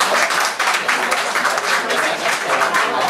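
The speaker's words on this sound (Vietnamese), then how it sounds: "Xin lỗi quý vị cho tràng pháo tay." Dense, steady applause from a concert audience at a live show featuring a singer, with many hands clapping in a continuous close wash for the full few seconds.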